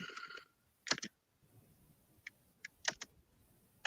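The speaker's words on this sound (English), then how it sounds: "I'm typing something." Sparse, irregular clicks of keyboard keys, a few quick bursts with gaps between, close and fairly quiet.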